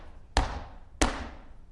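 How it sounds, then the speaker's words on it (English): A flamenco dancer stamps her feet twice on the floor as a calling, giving two sharp, loud, close thuds about half a second apart that ring briefly, with no talking. "I give a calling. It's with my feet."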